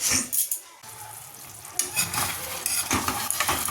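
Chicken stir-fried dry in a pan with no water added, kosha style, with a steady sizzle and the scrape of stirring, brief clatters of the utensil against the pan.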